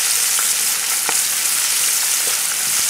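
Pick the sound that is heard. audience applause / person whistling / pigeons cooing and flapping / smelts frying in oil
smelts frying in oil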